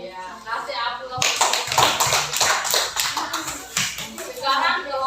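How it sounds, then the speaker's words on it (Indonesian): A classroom audience applauds with quick hand claps that rise into a full burst of clapping and hold for several seconds, with voices and chatter before and after. "Ya, kasih aplaus."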